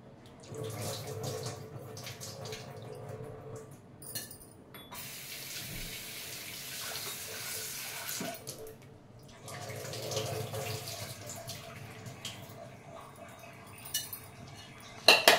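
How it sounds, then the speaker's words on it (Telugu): Gongura leaves being washed by hand in water, a steady running and splashing sound with clinks of a vessel, fairly quiet and close, with brief pauses. "ఒక టూ టైమ్స్ వాష్ చేస్తాం మంచిగా."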